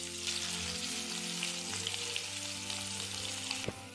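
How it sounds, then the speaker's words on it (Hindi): Sliced onion, one large onion cut into long strips, sizzles steadily in hot oil in a pan while sambhar is being cooked, producing a continuous close crackle with small pops and a brief clatter near the end, and no voices. "अब मैं इसमें प्याज ऐड करूंगी।"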